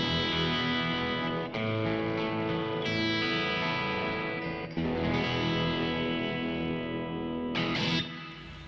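An Ibanez electric guitar plays a slightly driven clean tone through ENGL and Fender amps with a Boss MZ-2 Digital Metalizer pedal in the chain, sustained chords ringing with chorus-like shimmer, close and steady with no talking.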